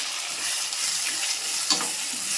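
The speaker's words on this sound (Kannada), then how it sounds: "ಅದೇ ಕಡಾಯಿ ಒಳಗೆ ಈಗ ಉಳ್ಳಾಗಡ್ಡಿ ಮೆಣಸಿನ್ಕಾಯಿ ಫ್ರೈ ಅವ್ರು" Onion and green chilli fry in a kadai for upma, giving a bright continuous sizzle with light stirring scrapes throughout.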